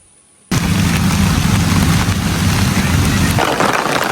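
Heavy rain in a rural village by a pond, a sudden loud, steady roar of downpour that begins after a quiet moment and keeps going without a break.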